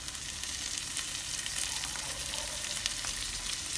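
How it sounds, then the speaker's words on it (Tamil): Mint and coriander leaves sautéing in hot oil for white chicken biryani, a steady, close, continuous sizzle and crackle with no talking. "இது லைட்டாக நம்மளுக்கு எண்ணெயில் வதங்கி வரட்டும்"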